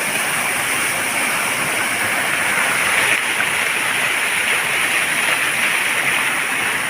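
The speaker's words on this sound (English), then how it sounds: "The rushing of the water into the caves." Loud, steady roar of water rushing into the caves of the Villa d'Este garden in Tivoli, a dense continuous wash of spray and splashing close by, with no speech.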